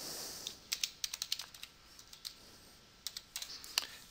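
Computer keyboard typing, close and fairly quiet, in short bursts of crisp keystrokes with a brief pause in the middle; no one speaks.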